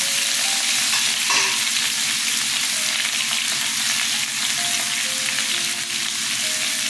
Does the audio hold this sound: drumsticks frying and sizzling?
yes